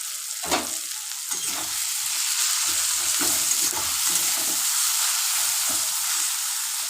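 Spices with cumin powder frying in oil for a fish curry, a loud continuous sizzle with a few scattered spatula scrapes and taps in the pan.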